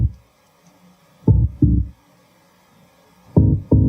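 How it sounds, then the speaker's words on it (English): Synth bass line pitched down an octave with EQ, saturation and compression, deep pulsing notes played in two pairs of short thumping hits separated by a pause. "All right, so we got ourselves a bass line."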